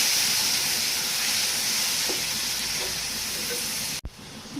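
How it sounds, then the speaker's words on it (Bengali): Banana flower tossed into onions already fried until reddish, sizzling steadily in a pan with a loud, even hiss that cuts off abruptly near the end. "এখানে আমি পেঁয়াজগুলো ভালো করে লাল লাল করে ভেজে নিয়ে তারপর এখানে কলার মোচাগুলো দিয়ে দেবো।"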